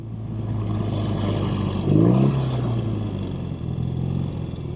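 A 1971 BMW R75/5 motorcycle engine runs at high revs, a smooth, steady mid-pitched hum with a brief rise in revs midway before settling back to an even drone, close and alone.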